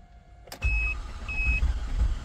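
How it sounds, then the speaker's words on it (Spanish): GMC Acadia / Chevrolet Traverse engine cranking on the starter after a chime, a low rough churning drone that starts abruptly and continues unevenly, with electronic beeps sounding over it. "Ya da marcha."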